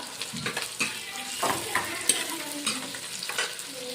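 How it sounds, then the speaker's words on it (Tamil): Onions sauté with salt for a fish tamarind curry, a quiet steady sizzle broken by repeated scraping stirs of a spatula against the pan, no talking. "கொஞ்சமாக வெங்காயம் வதங்கிறதுக்கு உப்பு போட்டுக்கலாம்."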